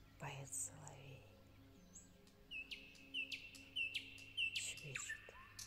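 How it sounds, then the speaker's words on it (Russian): A nightingale sings among other chirping birds in a spring forest, a series of close, clear whistled phrases and repeated trills, with soft whispered speech woven underneath. "поет соловей"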